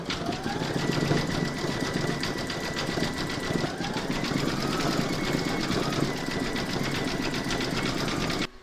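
An embroidery machine stitching an in-the-hoop apple coaster, a fast steady mechanical whirring and rapid needle chatter running continuously, close and moderately loud.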